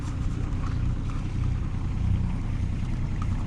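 A sailboat's engine runs with a steady low rumble, throttled through forward and reverse while pivoting in place at an anchorage near Vonitsa, Greece, close and continuous with water noise.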